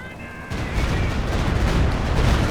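Rocket artillery from a walking Stuka half-track in the Company of Heroes 2 video game, a rumbling barrage of booms and crackling impacts that builds after a quiet start.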